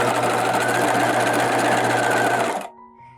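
A sewing machine back stitches along a marked line on a bodice dart, running as a steady, close, loud whir for about two and a half seconds before stopping abruptly, leaving a faint hum.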